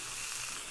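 Beef short ribs searing in a hot pan give off a steady, loud, close hiss of sizzling fat that holds evenly with no talk.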